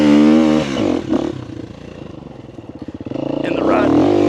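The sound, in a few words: dirt bike engine revving while riding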